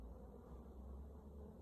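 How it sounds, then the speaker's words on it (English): A faint, steady buzzing of bees droning continuously at low volume, with no other distinct sounds. "there's one with bees in here in the undergrowth"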